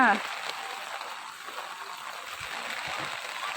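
Continuous rushing flow of floodwater through a village street in Aruppukottai, a steady wash of sound close by, with a brief voice at the start.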